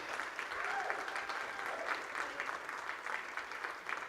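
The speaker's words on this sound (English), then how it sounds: "So a huge round of applause for all of our entries tonight" A convention crowd applauds the masquerade costume entries at Norwescon, steady distant clapping heard faintly and continuously across the hall with some murmuring beneath it.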